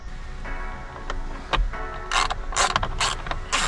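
A 1/4 inch drive ratchet works loose the wheel lug nuts on a Mitsubishi Evo X, giving bursts of close mechanical clicking and creaking with short pauses between pulls.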